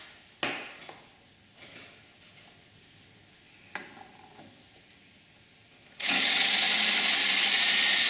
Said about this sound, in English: all we're going to do is run our drill in about 3/4 of the way and then take it through the other direction